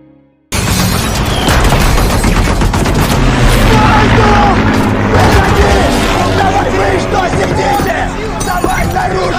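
Explosions and rapid gunfire from a Luftwaffe air attack on a Soviet column in a war film make a loud, dense, continuous barrage of booms and bursts that fills the whole stretch.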